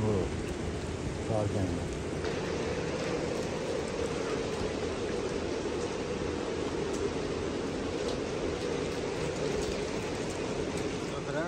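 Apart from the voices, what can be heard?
heavy rain during storm in Dubai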